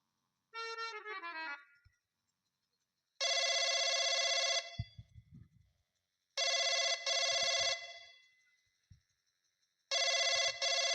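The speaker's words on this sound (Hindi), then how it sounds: "सेनापति शेर सिंह को इसी वक्त फोन कर दो।" A telephone rings in a Hindi nautanki folk theatre performance: loud bursts of electronic ringing repeat at intervals, separated by short gaps with faint low thumps, and no talking is heard.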